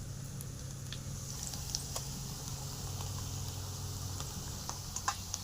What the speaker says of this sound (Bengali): এই দেখুন পেঁয়াজটা হালকা ভেজে নিলাম। এই অবস্থায় আমি মাংসটা দিয়ে দেব।